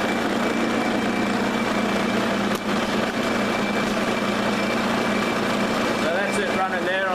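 An old lathe runs at its slowest speed, giving a steady mechanical drone with a constant motor hum and faint whine, continuous and close, while a voice speaks over it.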